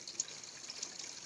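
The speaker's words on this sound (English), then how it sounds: "And we're back down by the creek again." Creek water flows beside a hiking trail to Maple Falls, a faint, continuous trickle and burble with small splashy accents, heard alone for a brief moment.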